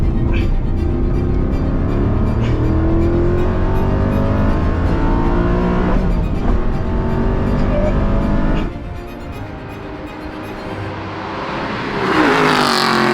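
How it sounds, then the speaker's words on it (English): A Ferrari and an Aston Martin, both V8-engined with manual gearboxes, accelerate hard together, a loud sustained engine roar that climbs through the gears, eases off briefly and then surges again. "both the Ferrari and the Aston have manual gearboxes and V8 engines"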